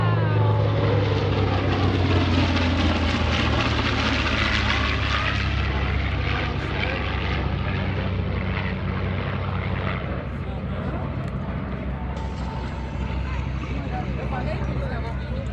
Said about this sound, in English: In the lead, the TBM, being flown by Nick Zeroli out of the American Airpower Museum in Farmingdale, New York.